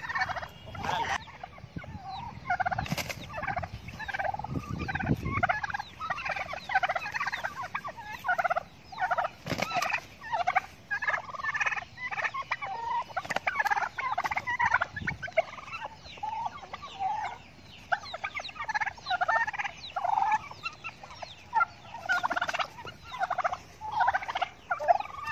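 Two turkeys gobble loudly and repeatedly while squaring off against a native rooster in a fight, dense bursts of fowl calls and clucks continuing nonstop at close range with no talk.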